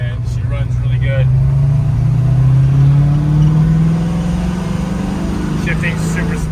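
A 1965 Ford Mustang GT350 tribute with a manual clutch pulls under acceleration while driving, its engine drone climbing steadily in pitch, heard loud from inside the car with brief talk over it.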